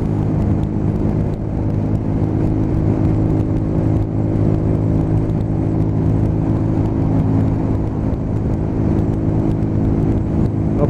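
Honda CB125 five-speed motorcycle engine at about fifty miles per hour on a test ride, a loud, steady buzzing drone with constant pitch and heavy wind rush throughout, with no talking.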